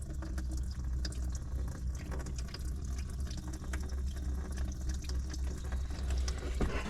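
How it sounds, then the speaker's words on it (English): Engine coolant trickles and drips steadily from a loosened oil filter housing on a 2012 Chrysler 300 with the 3.6L Pentastar V6, a continuous close watery patter without talk. "now we have coolant dripping out"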